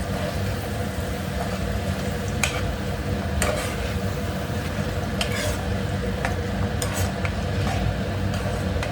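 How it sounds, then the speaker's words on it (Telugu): Onions fry in a pan for a drumstick tomato curry, giving a steady sizzle with scattered clicks and scrapes of stirring, fairly close and constant throughout, with no talking. "సో ఇది అనేది మంచిగా వేగాలండి, లైట్ గోల్డెన్ కలర్ వచ్చే వరకు వేగాలి."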